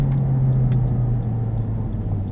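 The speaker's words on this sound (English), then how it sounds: "All right, so driving the Civic Sport Hatchback." Interior drone of a 2017 Honda Civic Sport Hatchback with a manual transmission while driving, a steady low engine hum and road rumble with a faint tonal note, heard from inside the cabin and with no talking.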